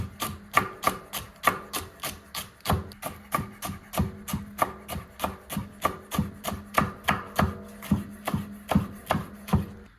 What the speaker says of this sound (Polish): po prostu szatkujecie na takie pół, do pół centymetrowe e, paseczki